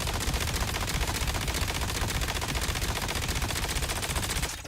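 Continuous rapid automatic gunfire from a hard-recoiling gun in a video game, loud and dense, a steady stream of shots for several seconds that cuts off abruptly at the end.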